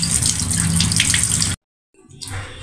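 Jackfruit seeds and red lentils rinsed together under running tap water, a steady rushing splash for about a second and a half, then a brief silence before the water resumes more softly.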